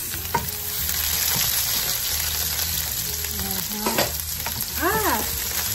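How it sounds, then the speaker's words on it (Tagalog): Garlic and onion are sautéed in a pan for lugaw, giving a steady close sizzle and frying crackle, with occasional stirring scrapes and knocks. "Gigisa ko. Damihan ko yung bawang."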